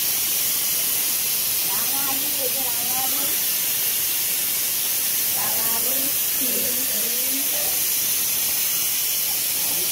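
Steady steam hiss rises from a pot of whole vegetables boiling for Saraswati puja, with brinjal and other produce in it. Voices talk faintly in the background throughout.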